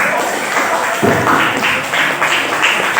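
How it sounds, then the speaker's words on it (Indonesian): Pupils applaud in a classroom, a loud, close wash of many clapping hands with rhythmic surges, sustained for about three seconds. "Tepuk tangan."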